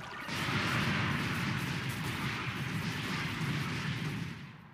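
Awakened Dough fruit V-move barrage in Roblox Blox Fruits, a dense burst of rumbling impacts that starts abruptly, rolls on loudly for about four seconds and then fades.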